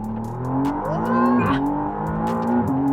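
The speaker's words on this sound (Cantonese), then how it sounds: "即係麥拿倫轉用 V6 計咧，我覺得係有進步嗰啲聲" A McLaren Artura's V6 engine revs loud and close, its pitch sweeping upward and then settling into a high, even drone, with no talking.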